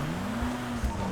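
Car engine droning steadily in a Fortnite or Apex match, a continuous hum at close range with faint game noise underneath and no talk over it.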